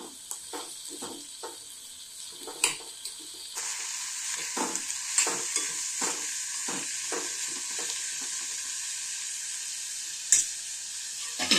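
Fenugreek and potato bhaji being stirred in a pan, with repeated spatula scrapes over a soft sizzle that grows steadier and louder partway through.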